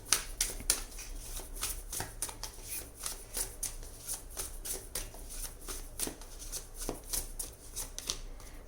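Tarot cards shuffled in hand with a steady run of crisp riffling and flicking bursts, fairly quiet and close, with no talking.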